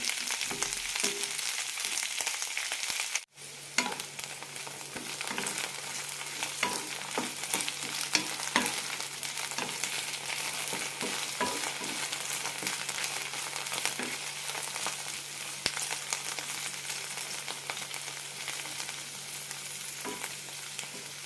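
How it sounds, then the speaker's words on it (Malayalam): Sliced okra fries over a low flame in coconut oil while it is stirred, giving a steady, close crackling sizzle with soft scraping strokes. A brief clatter near the start is followed by an unbroken sizzle, and no one speaks. "ഇനി ഇത് നന്നായി വറുത്തെടുക്കാം."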